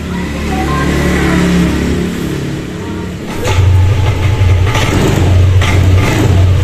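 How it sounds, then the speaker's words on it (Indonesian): A Yamaha Lexi scooter engine starts up after a stretch of idle workshop noise, then settles into a loud, steady buzzing run with slight revving swells, close by. "untuk si motor dia sudah mau hidup"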